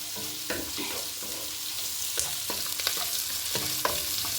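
Onions sautéing in a pan for coriander leaf rice, a steady close sizzle with repeated scraping stirs of a spoon throughout, no talking.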